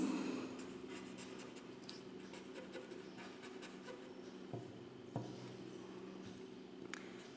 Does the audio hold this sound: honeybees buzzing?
no